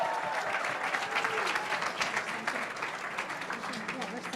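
An audience at a Diwali program in a Hindu temple hall gives sustained, dense applause, close and even throughout, with cheers and voices mixed into the clapping.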